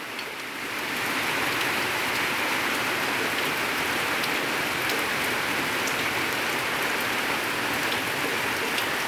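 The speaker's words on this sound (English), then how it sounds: "It may continue all day long with heavy rainfall." Heavy rain falling steadily on a rainy day, a dense, loud, even hiss of drops that swells in after the first second and continues without a break.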